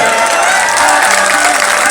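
Dense applause from an audience at a live Bhojpuri stage show, steady broadband clapping filling the whole moment with a faint murmur of voices underneath.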